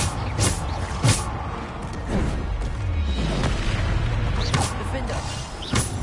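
Repeated Bombarda spell explosions in Hogwarts Legacy, heavy booms and thuds going off every second or so, loud and close, with a player talking throughout.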